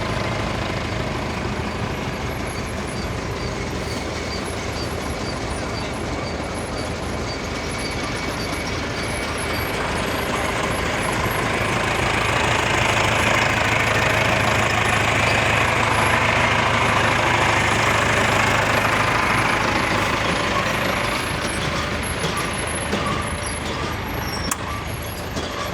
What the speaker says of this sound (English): Now that's actually a reliable tractor right there.